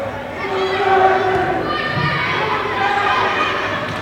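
Rowdy St. Francis crowd at a college volleyball game against Trinity Christian, with a steady din of shouting and chatter in the gym under a commentator's voice.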